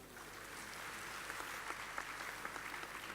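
An audience at a French-language panel discussion on mines claps together, a faint, even wash of many hands heard from a distance for a few seconds.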